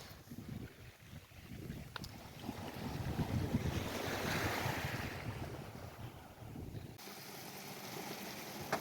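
Sea waves wash onto a Mediterranean shore near Mazarrón, a steady roar of surf swelling and fading, mixed with gusting wind buffeting the microphone.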